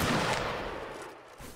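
Musket volley in Mount and Blade Napoleonic Wars during a line battle: a dense, crackling burst of many shots at once, loudest at the start and then fading into a scattered rumble.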